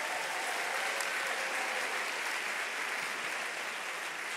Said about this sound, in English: can we give our award recipients thus far another huge round of applause?